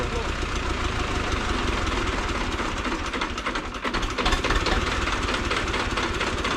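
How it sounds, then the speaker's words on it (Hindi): A Zetor 2011 tractor engine idles in a steady, rumbling drone with a slight knocking rhythm throughout, and brief muffled talk underneath. "ट्रैक्टर में आवाज भी कम है आज वालों से"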